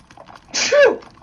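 One loud, close sneeze bursts out briefly against a quiet background.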